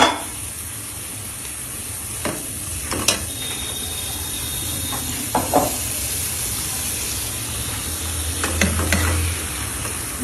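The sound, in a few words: stirring fried fish with flat beans in a pan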